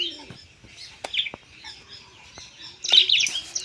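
Pigeon chicks chirping close by, thin high peeps and squeaks in short bursts with a louder cluster near the end, over a quiet background with a few clicks.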